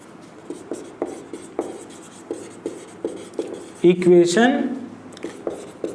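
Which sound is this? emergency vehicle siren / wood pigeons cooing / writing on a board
writing on a board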